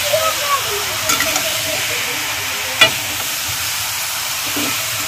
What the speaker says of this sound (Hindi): तो हम इसे अच्छे से भूनेंगे